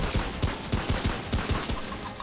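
Rapid bursts of small-gun fire in Remnant From The Ashes, a quick irregular volley of sharp shots layered over dense, loud game noise with no talking.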